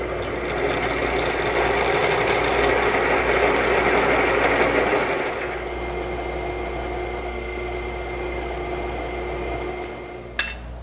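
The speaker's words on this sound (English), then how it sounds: "All we got to do is drill the holes." A drill bores holes into a homemade spring cut-off part in a workshop, its steady mechanical whir loud and continuous for about five seconds before easing to a lower running hum, with a brief sharp click near the end.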